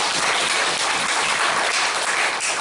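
Applause from a church congregation during a Sunday worship service, a steady dense wash of clapping at moderate level, continuous for a few seconds with no voices over it.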